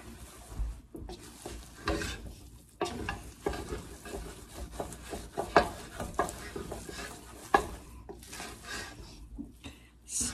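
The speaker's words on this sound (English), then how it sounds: "Stir it really well. Make sure those seasonings get blended in." A spoon stirs Italian sausage dressing with seasonings in a pan, giving close, irregular scraping and rubbing strokes over a soft sizzle, with no talking.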